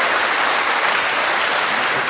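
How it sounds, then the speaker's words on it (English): Steady applause from a conference audience after a talk, dense clapping that fills the whole moment without pause. "Applause."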